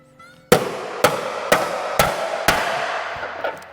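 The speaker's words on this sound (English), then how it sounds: "I use the little bit pointed end, and I'm gonna hammer it right at the end of that" Sheet metal struck with a hammer on a shrinking stump, five sharp metallic blows at an even half-second rhythm, close and loud, each ringing briefly before the next.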